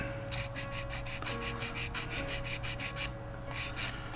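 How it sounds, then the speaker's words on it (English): An emery board rubs rapidly back and forth over a plastic sprue mark on a toy figure part, a close, rhythmic scratchy rasping of many quick strokes against a steady background hum. "To do the file work, I'm just going to use a emery board"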